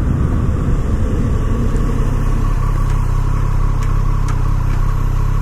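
A 2019 Triumph Street Triple R motorcycle engine runs steadily on a test ride, a loud continuous low drone with wind rush and no talking.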